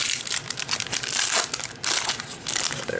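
A trading card pack wrapper from a 2021 Chronicles Baseball mega box is torn open up close. The foil crinkles and crackles in a steady run of bursts for about three seconds, and no one speaks.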